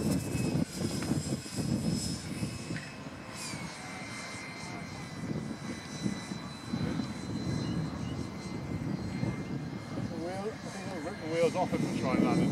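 A Hobbyking Vampire RC model airplane flies overhead with a steady, moderately loud electric buzz that swells and fades as it passes. People talk throughout in a breezy outdoor setting.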